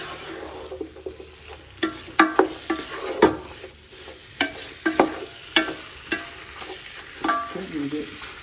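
Chicken curry stirred in a pan, a spoon scraping and knocking in an irregular run of close strokes over a soft, steady sizzle, with no voices.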